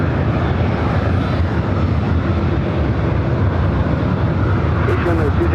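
A KLM airliner holding at number two for takeoff on the north side of a large airport, a loud steady jet engine roar that stays constant throughout, with talk over it.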